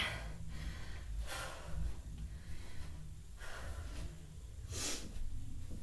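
Heavy breathing between workout sets comes close to the mic, with several deep, rhythmic breaths and gasps over a constant low background hum.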